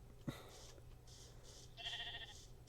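A couple of short video-game sheep bleats sound faintly over quiet background, with a brief thump near the start.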